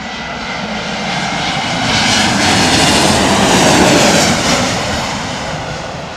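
A Lufthansa airliner passes low overhead on arrival, its engine roar swelling to a loud peak mid-pass and then easing off, with no voices.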